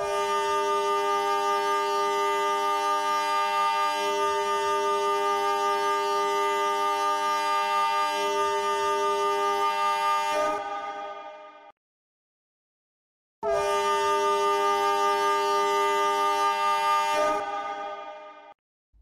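Custom locomotive horn played back through an ESU LokSound decoder simulator: a loud, sustained multi-chime blast lasting about ten seconds, a brief silence, then a second long blast that tapers off, with no talking.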